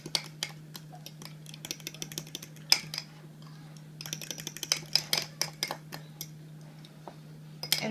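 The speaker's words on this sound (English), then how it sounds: "it's just mayo and sriracha. Sriracha spicy. And give it a stir" Light clinking and tapping of a utensil stirring mayo and sriracha sauce in a small dish, irregular quiet ticks against a steady background hum.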